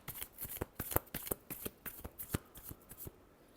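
Tarot cards shuffled by hand, a quick run of crisp riffling flutters and soft slaps, close and fairly quiet, with no talking.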